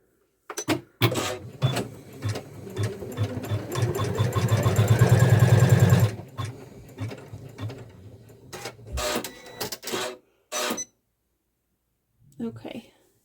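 A Kimberbell embroidery sewing machine stitches a seam in a fast, steady, mechanical rhythm for about five seconds, close and fairly loud, followed by someone talking in short bursts.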